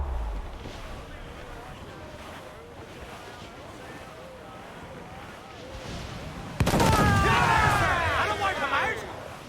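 Ship cannon fire in the video game Assassin's Creed IV Black Flag, a sudden loud boom rising over a steady roar of wind and sea, with crew voices shouting beneath.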